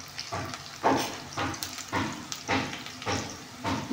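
Curry leaves and turmeric sizzle in hot oil for puliyogare, a steady frying crackle with several stronger hissing bursts roughly every half second, close and moderately loud with no talking.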